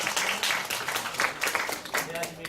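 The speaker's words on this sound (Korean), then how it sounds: "큰 박수를 모시겠습니다" An audience at a teacher-training bootcamp lecture claps to welcome a speaker, a dense, steady patter of many hands filling the short stretch, fairly close and loud.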